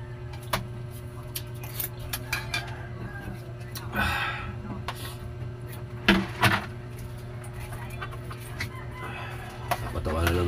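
Chickens clucking intermittently nearby, with a few sharper squawks and a low steady hum in the background.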